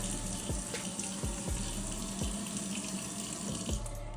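Tap water runs steadily into a sink with a little Dawn dish soap while cleaning a mouthpiece, a constant rushing splash with a few soft knocks underneath.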